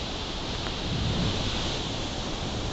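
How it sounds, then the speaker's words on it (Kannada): Jog Falls on the Sharavati river in Sagar taluk, Shivamogga, Karnataka, in full monsoon flow: a steady, dense roar of plunging water that holds loud and unbroken throughout, with no voices. "ಶಿವಮೊಗ್ಗದ ಸಾಗರ ತಾಲೂಕಿನ ಜೋಗ ಜಲಪಾತ ಇದೀಗ ಭೋರ್ಗರಿಯುತ್ತಿದೆ"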